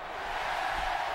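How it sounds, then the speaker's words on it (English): A wrestling arena crowd at a Sin Cara versus Sin Cara Negro mask-versus-mask match roars in a steady, dense wash of cheering that fills the whole moment with no single voice standing out. "And listen to the crowd right now."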